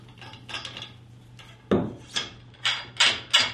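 Hard metal-and-plastic clicks and clacks come from a trekking pole as the adjustable tip or jam nut is taken off the compression lock, about half a dozen close, sharp knocks spaced unevenly with no talking.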